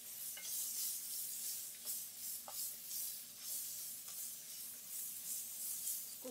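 Chopped onion sautés in hot oil with cumin, carom and mustard seeds for a samosa filling, giving a soft continuous sizzle and hiss. Occasional light clicks of stirring come through close by, with no speech.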